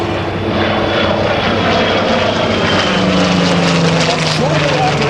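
A Douglas Skyraider propeller aircraft at an air show, its engine droning loudly and steadily throughout with a shifting pitch, while a commentator talks over the noise.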